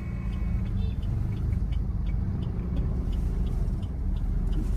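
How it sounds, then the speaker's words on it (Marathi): Car pulling up on a road, a steady close rumble of the engine and tyres lasting the whole moment with no talk. "गाडी आता आपला आलाय"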